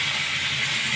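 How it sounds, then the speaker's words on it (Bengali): Fish coated in turmeric and salt frying in hot oil, a loud, steady, broadband hiss heard close up with no other sounds. "মাছটাকে ভাজতে দিয়ে দেবো।"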